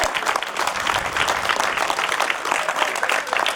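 Crowd applauding the podium finishers of a 2021 hill climb race at Turckheim-Trois Epis, a steady, dense wash of clapping from many hands with no pause.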